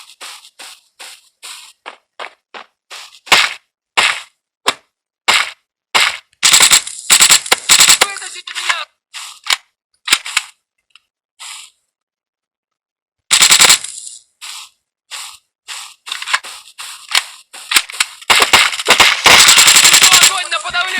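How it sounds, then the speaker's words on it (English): Bursts of assault rifle hip fire crackle in a video game, with short rapid volleys and longer sustained sprays separated by pauses, loud and close throughout. "You want to try to hip fire it, like it's an assault rifle?"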